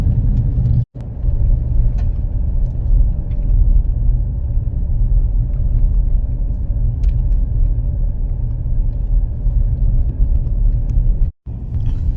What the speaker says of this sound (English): It's a dirt road. It's got some ruts in it, but so far, not so bad.